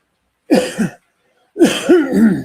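Two harsh, loud coughing fits close to the listener, a short one followed after a pause by a longer, raspier burst.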